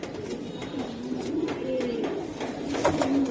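A pair of silver pigeons cooing nearby, soft throaty coos rising and falling over a low background hum, no speech.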